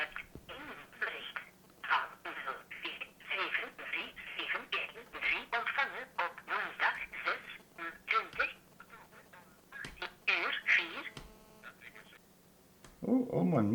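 A telephone line heard through an Android smartwatch (U10 Uwatch) calling voicemail, carrying a recorded voicemail voice with a steady line hum, short pauses, and a closing tone, moderately loud and close.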